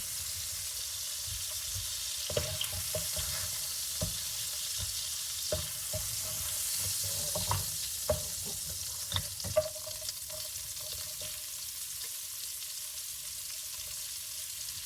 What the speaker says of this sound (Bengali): হালকা ভাজা দিয়ে উঠে ফেলতেছি এখন এটাতে আমি লাউ বসাবো